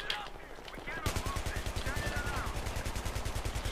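Battlefield 3 team deathmatch on the Grand Bazaar map: after a quieter start, a sustained rapid machine-gun burst fires loud and steady, shot after shot in even rhythm, with faint voices underneath.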